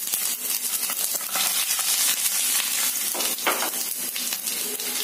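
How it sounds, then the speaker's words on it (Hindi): Cumin seeds, fenugreek and garlic sizzle and crackle in hot oil in a pan, a close, continuous frying hiss with occasional stirring and no speech. "इसमें हम डालेंगे 1 चम्मच भरकर जीरा, 1/2 चम्मच मेथी, अब हम इसमें डाल देंगे लहसुन"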